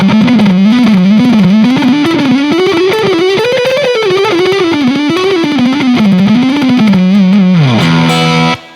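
An Ibanez electric guitar on its neck single-coil pickup plays a distorted lead melody with effects, a steady run of sustained, rising and falling notes, loud and alone, ending in a sliding drop and a final ringing chord.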